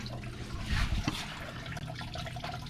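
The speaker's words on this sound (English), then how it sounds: "pull this hose real quick, this lower radiator hose, let it drain out" Coolant draining from a pulled lower radiator hose on a single-cab truck, a faint continuous trickle and splash of liquid with a slightly louder gush near the start.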